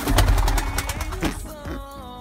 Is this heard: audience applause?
no